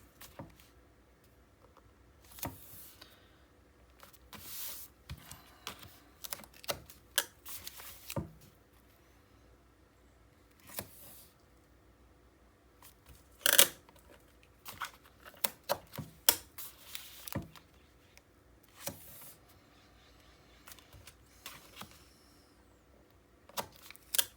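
Tape is pulled and pressed onto the back of a paper photo panel in a quiet room, with scattered sharp ticks, crackles and tearing bursts that come in irregular clusters close by.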